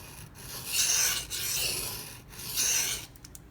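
A Zero Tolerance 0393 knife with a CPM-20CV blade is stroked across soaked sharpening stones, giving three long, close gritty rasps separated by short pauses, with no one speaking.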